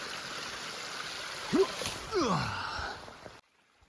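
Mountain creek in South Kananaskis running across a hiking trail near old bridge remains, a steady broadband wash of water with a couple of brief louder splashes partway through before cutting to near silence.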